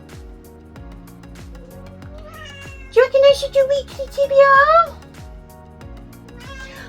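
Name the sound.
cat meowing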